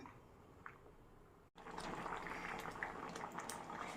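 Coconut milk, with the second extract just added, simmering and thickening in a pan. A quiet stretch ends in a brief gap, then a close, steady bubbling hiss continues.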